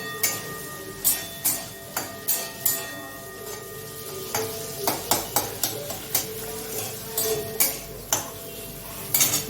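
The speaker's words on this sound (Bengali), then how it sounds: "এইবার এটা একটু ভাজা ভাজা করে নেবো, ব্যাস একটু নুন একটু হলুদ এগুলো একটু ভাজা ভাজা করে নেবো।" Potato and eggplant fry with salt and turmeric in a pan, a soft sizzle running underneath as a utensil stirs and scrapes in repeated sharp clinks and knocks, close by and fairly regular, with no voices.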